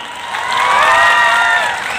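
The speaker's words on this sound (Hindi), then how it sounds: "तालियां।" A youth festival audience in Haryana claps and cheers, the noise swelling to a loud peak midway with shouts and whoops over steady applause before easing off slightly.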